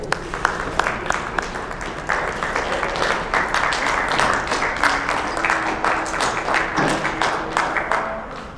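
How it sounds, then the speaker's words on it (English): A conference crowd at a wedding professionals event gives a speaker a strong round of applause, loud and continuous for several seconds with a few sharper individual claps standing out. "Applause, if I ever heard one."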